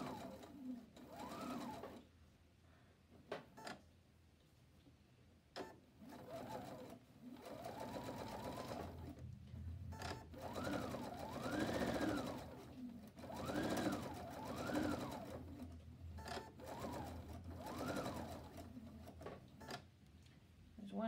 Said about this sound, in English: We're just going to stitch along the edge.